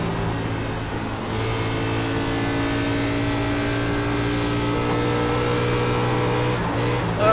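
A NASCAR race car engine in the iRacing sim at Texas Motor Speedway, a loud continuous high-revving drone that swells as the throttle is applied, with a few shifts in pitch and no talking.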